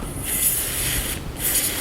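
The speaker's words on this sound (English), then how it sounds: "on the gear pump I'm going to put some spray grease" Two bursts of pressurized spray grease hiss from an aerosol can onto a gear pump, close and loud, with a brief pause between them.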